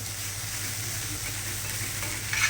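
Onion roasting in a pan, a steady close sizzling hiss of frying with faint stirring, swelling slightly louder at the very end.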